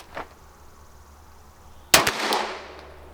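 A single loud, sharp pistol shot of Winchester Ranger 124 grain +P ammunition fired from a non-ported barrel, cracking suddenly after a quiet pause and trailing off in a brief echoing decay.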